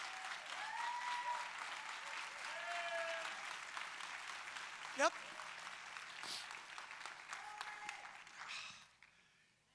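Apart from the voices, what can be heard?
church congregation applauding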